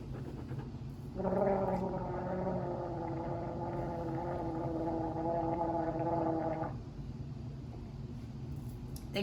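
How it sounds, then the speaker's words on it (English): Someone gargles about an ounce of homemade mouth rinse for around five seconds, a steady bubbling, wavering tone close to the mic over a quiet room background. "All you're gonna do is put in about an ounce into your mouth and you're gonna gargle it for"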